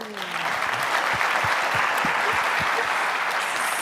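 An audience at a live charity stage event applauds a speaker, steady dense clapping from a crowd that holds at an even level throughout.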